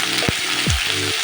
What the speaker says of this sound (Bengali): এবার কেটে রাখা কাঁচা টমেটো দিয়ে এর মধ্যে আর দিয়ে দেবো কেটে রাখা পেঁয়াজ এটা দিয়ে এবার ভালো করে একটু নেড়ে নেবো।